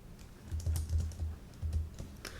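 Fingers typing code on a computer keyboard, clustered clicky keystrokes in quick bursts with short gaps, close and moderately loud, no voice over them.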